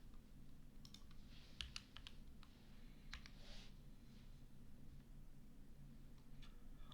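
Keys clicking as search keywords are typed on a computer keyboard, a scattering of soft, irregular taps at a close distance over a steady low background hum, with no voices.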